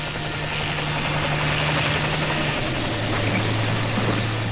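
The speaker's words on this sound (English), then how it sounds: "on schedule our helicopter arrives." A helicopter arrives at the starting point for a winter elk hunt, its engine a loud, steady, close droning rumble with a low vibrating hum throughout.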